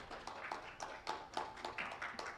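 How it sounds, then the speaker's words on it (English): Scattered, thin clapping from a small audience at a wildlife biodiversity conservation symposium, steady for a couple of seconds at moderate distance with no voices. "Let's give a round of applause to everyone here."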